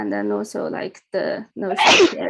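A single sharp sneeze bursts out between stretches of a man's speech during a mathematics lecture, loud and close.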